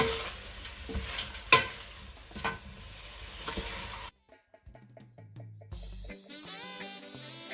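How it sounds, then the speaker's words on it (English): Pepper and garlic sizzling in a pan while being stirred, a frying hiss with scraping stir strokes that stops partway, giving way to quieter clinks and a tonal background. "Our pepper and our garlic. Just give that a nice mix."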